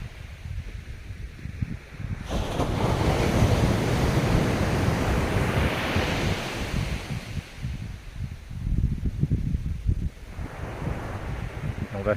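Ocean waves break on a shore at sunset, a broad rushing surge that swells, eases and swells again, with wind buffeting the microphone and no voices.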